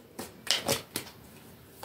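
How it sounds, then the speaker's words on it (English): Playing cards shuffled by hand during a tarot reading give a few quick, close riffling bursts followed by quieter rustling, with no talking. "One more shuffle."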